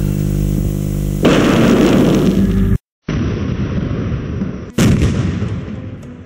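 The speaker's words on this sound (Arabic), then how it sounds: "وانطلق مدفع الإفطار حسب التوقيت المحلي لمدينة تورونتو وضواحيها" A ceremonial iftar cannon fired at sunset during Ramadan in Toronto: loud, booming blasts with long rumbling decays, one near the start and another after a brief silent gap, with no talking.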